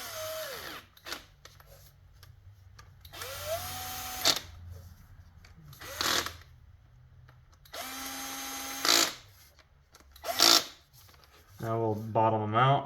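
A power drill tightens the bolts of a PCV breather plate on a Ford Focus ST engine in a cross pattern, giving short whirring bursts separated by pauses, close up, with a voice speaking briefly at the end.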